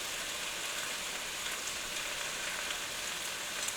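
Onions and potatoes fry in oil in a pan with a steady, even sizzle and crackle, close and continuous, with no talking.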